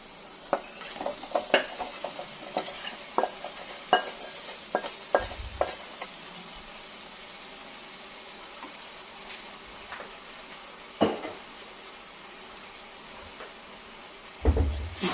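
Boiled chicken and onions frying in a pan, stirred with irregular scraping clicks over a steady soft sizzle, with a louder clatter near the end.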